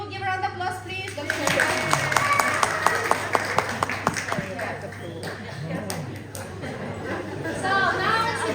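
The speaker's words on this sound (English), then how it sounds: "Give a round of applause, please." Applause from a tour group at a cheese factory demonstration in Volendam, moderately loud scattered clapping that keeps going for several seconds with crowd chatter and voices mixed in.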